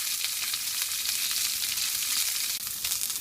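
Steady, loud sizzling of onions frying in a hot pan, a continuous crackling hiss with no voices.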